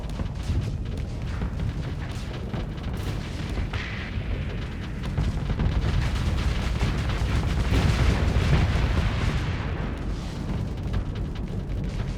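Torpedo launches and explosions in the space combat game Starsector, a continuous heavy rumble of booms and blasts rolling on for over ten seconds, loud and dense with no voices.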